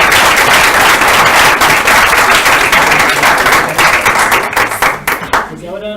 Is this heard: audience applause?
yes